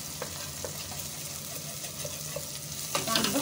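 Spices frying with onion and garlic in a pan, a steady close sizzle with soft stirring scrapes that grow busier near the end.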